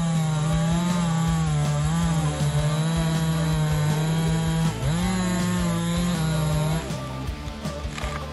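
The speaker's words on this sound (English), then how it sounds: "when the power of the chainsaw meets the natural power of the tree, creating a majestic and emotional performance." A big chainsaw cutting through a tree trunk, its engine droning loud and steady for about seven seconds with pitch dips as the chain bites into the wood, then easing off near the end.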